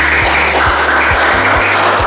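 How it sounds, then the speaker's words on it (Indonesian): A classroom of students claps for a presenting group, a loud steady burst of applause lasting the whole stretch with no talk over it. "Kita berikan tepuk tangan."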